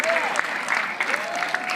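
Crowd applauding at a pro pickleball match in Bristol, a brief burst of steady clapping with a voice heard over it.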